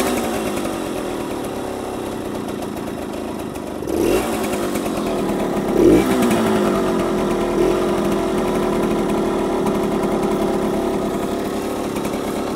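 A 1966 Harley-Davidson Aermacchi M50S motorcycle engine running rich buzzes at a close, raspy idle and revs up twice in short surges before settling back to a rough, steady drone.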